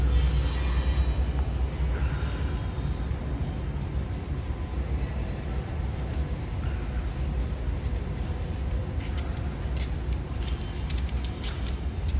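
A Union Pacific mixed freight train rolls past the Emeryville Amtrak station, a constant loud rumble and rolling roar with faint metallic squeals, steady throughout with no break.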